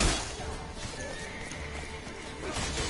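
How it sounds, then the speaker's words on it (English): A horse in The Witcher 3 whinnies loudly while galloping hooves clatter beneath, a short burst of game action with a crash-like edge and no talk. "Está el caballo nervioso, va, vámonos."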